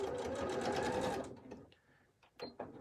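A sewing machine stitches a fabric face mask in a fast, close mechanical chatter for just over a second, then stops, followed by a few faint handling clicks and rustles.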